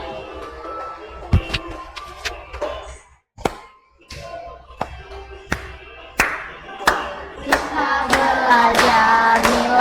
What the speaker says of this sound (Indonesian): Ayo kasih tepuk tangannya ya nak